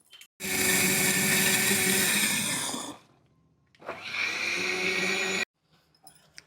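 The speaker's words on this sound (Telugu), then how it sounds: "ఇదిగోండి మిరియాలు కొద్దిగా వేసి మిక్సీ పెట్టేసుకుంటే సరిపోతుంది" A kitchen mixer grinder whirs loudly as it grinds batter with ginger pieces and peppercorns, running in two bursts with a short pause between and then stopping.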